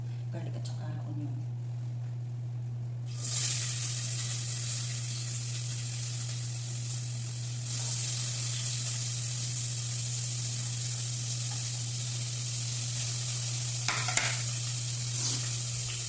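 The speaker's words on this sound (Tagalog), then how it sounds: "Ito na ilagay ko na guys yung garlic at saka onion." Garlic and onion hit a hot pan and sizzle steadily, a loud bright frying hiss that swells after a few seconds and keeps going, with a constant low hum underneath and occasional stirring.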